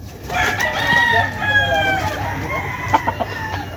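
White Kelso gamecocks crow loudly at close range with long, drawn-out calls, followed near the end by a few short clucks and a faint voice.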